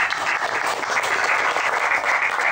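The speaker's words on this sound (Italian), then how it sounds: "E quindi gradirei un applauso per tutti quanti." An audience at an Italian award ceremony applauds in a dense, steady roar of many hands clapping together, sustained and fairly loud without a break.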